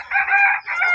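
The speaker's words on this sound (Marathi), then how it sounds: "कोंबडी आली बघ तिकडे" A hen nearby gives a short, loud, strained crow-like call in two bursts with a brief break between, close and alone.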